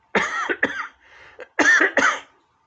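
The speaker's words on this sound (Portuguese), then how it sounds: "vou ter que tossir." Four harsh coughs from a person come in two close pairs, loud and near, with a brief quiet gap between them.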